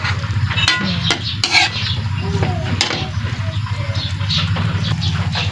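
Banana blossom adobo (adobong puso ng saging) gets stirred in a pot with a spoon, giving sharp clinks and scraping knocks against the pot over a soft sizzle, while someone talks throughout.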